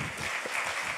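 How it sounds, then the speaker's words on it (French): A conference audience applauding after a talk on uberization, a dense, even wash of clapping with no voices over it. "Je vous propose d'abord d'applaudir Denis Jacquet"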